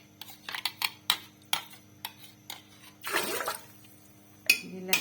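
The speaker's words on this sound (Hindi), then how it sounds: "मैंने इसमें थोड़ा सा पानी डालूंगी" Water pours in a short splashing burst onto ginger garlic paste in a cooking pot while making haleem, preceded by light clinks of utensils against metal and followed by a sharp knock.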